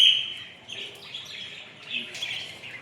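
Several small birds chirp and twitter continuously in bright, overlapping calls, fairly close and rising and falling in loudness, with no talk over them.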